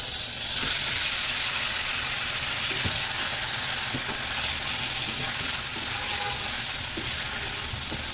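Snakehead fish laid into well-fried spice masala in a hot pan, a loud, continuous hissing sizzle with faint scraping underneath, close and unbroken throughout, no one talking.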